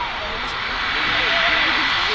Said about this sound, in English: Iceland Air just vacating the runway there.